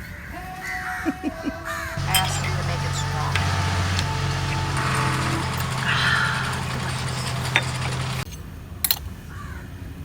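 Several crows caw loudly and repeatedly near a catamaran on a boat tour off Negombo, Sri Lanka, while a person speaks briefly over them amid steady engine or motor rumble.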